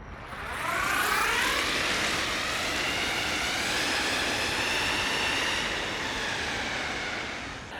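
An Evolve Hadean electric skateboard with gear drives gives off a loud, rising mechanical whine that climbs in pitch as it speeds up and then holds steady for several seconds before easing off, with no talk over it.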